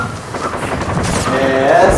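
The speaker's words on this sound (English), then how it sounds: "that's what the gunfire is" Bursts of rapid video game gunfire crackle in dense overlapping volleys, loud and continuous, mixed with a voice speaking over the action.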